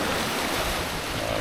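Ocean waves and wind rush loudly and continuously around a Hobie Cat 16 catamaran surfing down a wave while sailing, with a dense, even roar and no talking.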